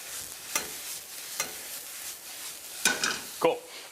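Scallions frying softly in a pan, a quiet hiss broken by a few sharp clinks or stirring knocks, the last two close together near the end.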